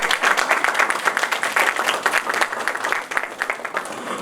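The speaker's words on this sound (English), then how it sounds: "Can we please have a round of applause?" An audience at a national high school debating competition gives a round of applause, with lively, dense clapping whose rhythm swells and thins slightly before settling.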